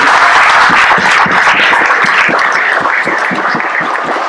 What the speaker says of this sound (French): je voudrais qu'on vous fasse un grand applaudissement pour tous les copains bénévoles de la maison du rugby